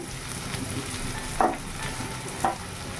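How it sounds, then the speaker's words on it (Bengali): Garlic and green chilli paste frying with onions in a pan for a meat dish: a steady low sizzle, broken by two sharp clinks of stirring about a second apart, with no voices. "রসুনটা কাঁচা লঙ্কা বাটাটা দিয়ে দিচ্ছি দিয়ে একটু ভেজে নেবো"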